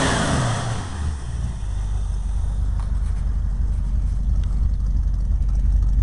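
Dodge Dart with a 360 V8 and a new muffler, running with a steady low exhaust rumble close by, with a slight rise early on and then an even idle-like drone throughout.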